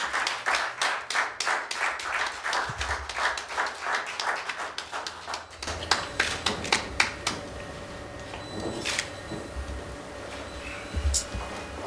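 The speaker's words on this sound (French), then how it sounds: "Sous vos applaudissements." Rhythmic, synchronized clapping from a crowd at a formal handover ceremony, loud regular beats for about five seconds, then scattered claps and background voices with faint tones.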